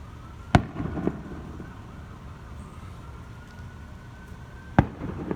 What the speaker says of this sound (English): They're out there just shooting straight fireworks.